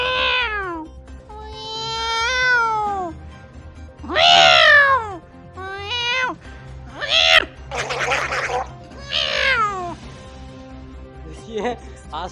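A voice imitates two cats fighting, a run of loud rising and falling yowls and screeches with short pauses between them, close and clear, and no ordinary talk.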